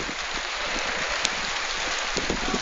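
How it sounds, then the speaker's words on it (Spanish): Heavy tropical rain pours down in sunshine, a dense, continuous hiss of drops striking leaves and surfaces close by, steady throughout with small splashes and no voices. "De nuevo está lloviendo con todo."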